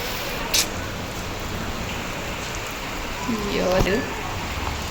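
Steady rain hisses continuously, with a brief tap early on and a faint voice-like murmur briefly rising above the downpour.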